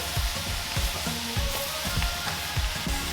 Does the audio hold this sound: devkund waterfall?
no